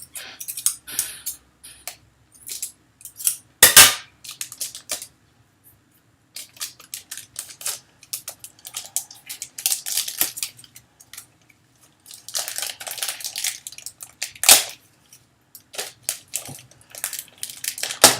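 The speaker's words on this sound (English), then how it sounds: "Cut this open." Plastic packaging around a reproduction NES cartridge of The Goonies is cut open, heard as bursts of close crinkling and crunching, scissor snips and sharp clicks spread across the whole stretch, broken by short quiet gaps.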